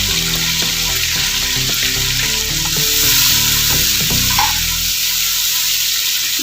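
Spice paste frying together with an onion and yogurt mixture in a pot for kabab karahi, a loud, steady sizzle with bursts of stirring and scraping throughout, no voices.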